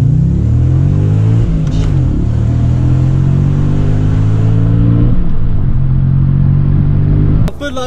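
An Audi S4 4.2 V8 and an Audi S3 TFSI accelerate hard side by side in a race, loud close engine drone rising in pitch through gears with clear shift dips, ending abruptly.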